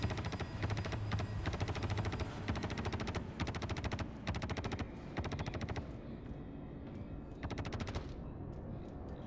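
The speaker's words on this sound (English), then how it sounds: "They're still shooting at my body upstairs." Rapid automatic gunfire from a Star Citizen firefight, loud and close, coming in several sustained bursts separated by brief gaps, with sharp crackling shots that thin out toward the end.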